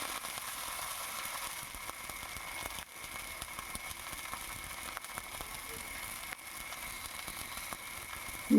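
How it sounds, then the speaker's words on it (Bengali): Water poured into a pan of fried ginger and green chilli gives a steady hissing sizzle that holds evenly throughout, with a brief dip and faint clatter near the end. "ভাজা হয়ে গেছে, সামান্য জল দিয়ে দিলাম।"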